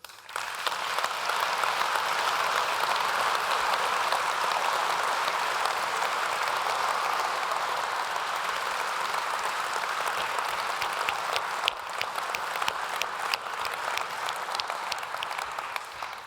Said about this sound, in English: please give a big applause to our CEO